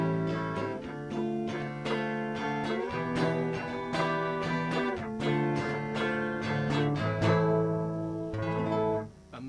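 A Telecaster electric guitar run through a convolution impulse response, playing plucked notes and chords with slightly smoothed, sustained tails. It is steady and close, with no talking.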